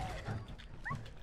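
A dog barks and whimpers in Fallout 4 amid gunfire-filled ruins of Lexington, a couple of short yelps sitting at moderate distance beneath faint game ambience.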